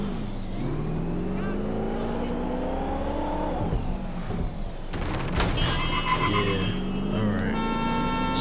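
A car engine in the video game Watch Dogs Legion drones steadily as the vehicle drives, its pitch rising and falling with acceleration and ending in a burst of crashes and higher whine, with a voice talking over it.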